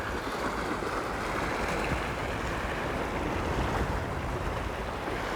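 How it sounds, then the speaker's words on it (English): Sea waves washing onto the shore at a salt marsh on the coast between Walton-on-the-Naze and Harwich, a steady, loud, continuous wash of surf with wind noise and no voices. "Listen to the waves, everyone. I'm going to listen to the waves."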